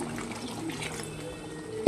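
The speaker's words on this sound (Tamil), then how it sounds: "குழம்பு கொஞ்சம் கெட்டியாக இருக்கனால ஒரு 1/2 கிளாஸ் தண்ணி ஊற்றி வேக வைப்போம்" Water poured from half a glass into a pot of thick, simmering curry, a soft steady trickle and bubbling with a brief louder splash right at the end.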